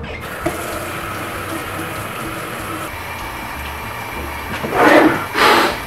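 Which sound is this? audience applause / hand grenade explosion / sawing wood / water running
water running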